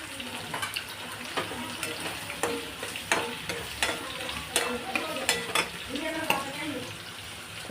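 Paneer being stirred and fried in a pan for palak paneer: a steady close sizzle broken by repeated spatula scrapes and clinks against the pan.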